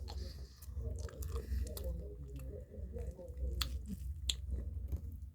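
Someone bites and chews a cookies and cream cupcake with a cookie topping: close, quiet soft crunches and moist squishy chewing, with a few sharper bites.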